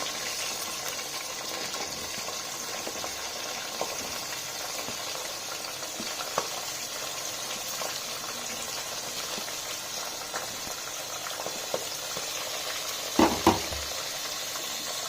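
Sliced onion and green chillies fry in a pan for aloo capsicum rice, giving a soft, steady sizzle with a couple of sharp utensil clinks near the end.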